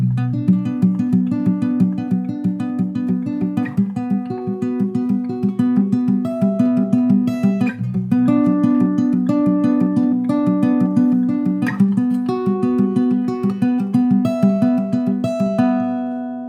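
Fingerpicked acoustic guitar playing the repeating pattern from a song, with a steady low bass pulse under plucked melody notes, close and clear, continuous for the whole passage with no talking.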